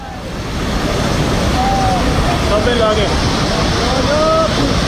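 Floodwater in Nepal, swollen by a flash flood from China that has swept away bridges, rushes in a loud, constant roar. Faint tonal sounds rise now and then above the rushing water.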